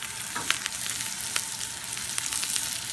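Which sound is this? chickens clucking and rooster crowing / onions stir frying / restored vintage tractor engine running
onions stir frying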